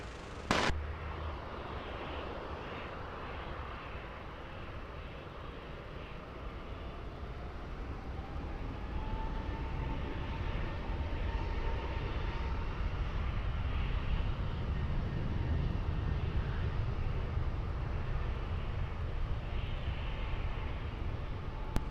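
A jet airliner takes off from runway 20 at Lisbon Airport, its broad engine roar steady and sustained throughout, rising slightly in loudness toward the end with a faint whining tone in the middle.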